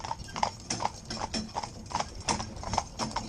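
A pair of Lipizzaner horses trotting slowly, hooves clip-clopping in a steady, even rhythm of sharp, close strikes with no talk over them.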